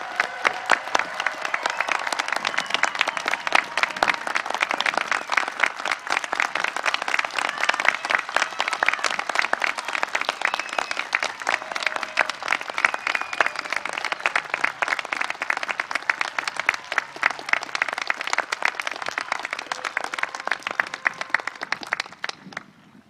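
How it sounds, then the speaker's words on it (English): A large commencement crowd at a college graduation claps for the graduates, sustained dense applause with distinct individual claps, steady for over twenty seconds before tapering off at the end. "rousing round of applause."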